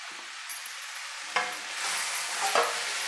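Fried potatoes are stirred into bitter gourd frying in a pan, with a soft sizzle swelling as the mix goes in and a couple of sharp utensil scrapes against the pan.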